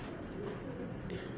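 Racing pigeon cooing softly in a low, throaty murmur, close by but faint, over a brief stretch.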